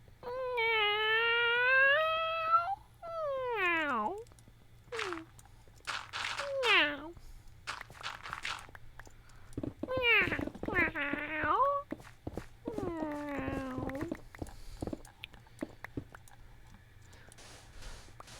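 A person's voice imitates a cat, producing a series of drawn-out rising and falling meows, close and fairly loud, with short pauses and a few clicks between them.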